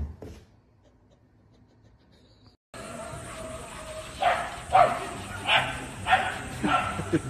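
After a sudden gasp, a dog answers with a quick series of yips and short barks nearby, four or five bursts in uneven rhythm, while a person speaks over it.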